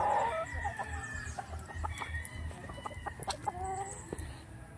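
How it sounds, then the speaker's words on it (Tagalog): On a Philippine farm, many chickens cluck and a rooster crows in the mix, a busy scatter of calls near and far over low background noise. "makikita natin ngayon ang dami ng manok nila"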